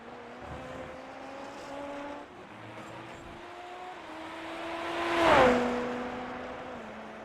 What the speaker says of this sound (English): That was interesting hearing the engine out of Callaway.